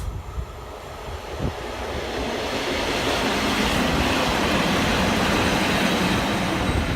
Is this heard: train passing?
yes